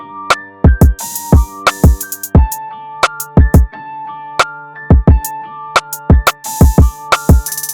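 Punchy hip-hop drums hit in a steady groove, with booming kicks, snappy snares and a sizzling open hi-hat ringing out between beats, playing alone.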